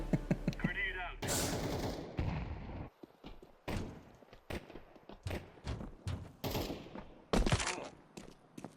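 Video game combat with a thrown grenade and gunfire: a low blast near the start, then a run of sharp, loud shots and bursts in uneven clusters, close and punchy.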